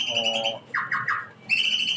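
Songbirds chirp and whistle at a songbird singing contest, with bright repeated tonal phrases and short trilling bursts, fairly close and clear, alongside some background voice-like sound.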